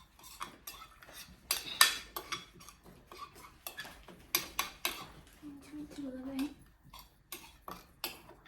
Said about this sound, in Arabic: نقلب بقى الهيصة دي كده مع بعضها